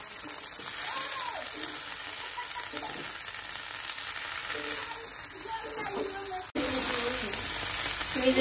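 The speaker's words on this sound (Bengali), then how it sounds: "এই যে সবজি রান্না করতেছি," Vegetables such as tomato, pumpkin, aubergine and potato cook in a pan with a steady, soft frying hiss that runs throughout and swells louder near the end.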